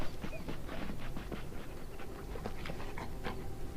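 A dog companion in the Dragon Age Origins video game panting steadily in quick rhythmic breaths, close and fairly loud, with faint whimpering and no speech.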